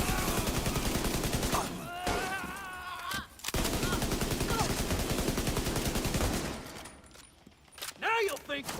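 Sustained rapid automatic gunfire aimed at a boss in The Division video game, loud and continuous for several seconds, with brief gaps and more scattered shots near the end, while someone talks over it.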